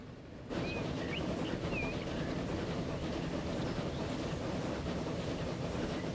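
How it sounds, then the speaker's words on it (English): Train rolling along the track in the Transport Fever 2 tropical map, a steady broadband rumble that starts abruptly and holds even and loud throughout, with faint higher squeals above it. "We'll just go ahead and ride this train here."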